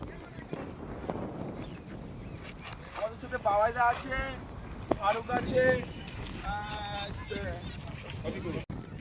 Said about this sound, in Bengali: সত্যি দারুণ হাওয়া হচ্ছে